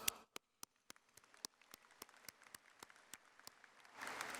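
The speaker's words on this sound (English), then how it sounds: "Now I ask you to put your hands together and applaud yourself." At a university commencement, graduates clap for themselves: sharp, evenly spaced single claps ring out one after another, quiet between beats, before a fuller wave of crowd applause rises at the very end.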